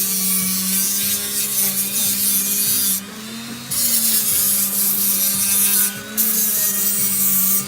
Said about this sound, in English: I go over it one more time with the finer grit